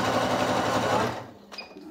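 Sewing machine stitching a seam to reinforce the bottom of a fabric backpack, a fast steady whirring run at close range that stops after about a second, followed by a small click.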